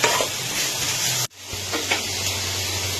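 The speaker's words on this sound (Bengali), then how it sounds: "এবার টমেটোগুলো দিয়ে দিলাম, কুচি করা টমেটোগুলো। এবার এটা একটু ভালো করে কষে নিতে হবে।" Chopped tomatoes stir-fried in a hot pan, a steady close sizzle with scraping stirs; the frying briefly cuts out, then resumes with a low hum underneath.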